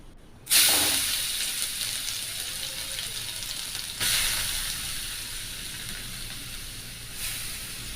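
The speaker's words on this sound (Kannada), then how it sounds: "ಏಲಕ್ಕಿ ಹಾಕ್ಕೊಂಡು ಒಂದು ರೌಂಡು ಫ್ರೈ ಮಾಡ್ಕೊತಾ ಇದ್ದೀನಿ" Cardamom pods hitting hot ghee in a pan for carrot halwa, a sudden loud sizzle that settles into a steady frying hiss, with a fresh surge midway and a smaller one near the end.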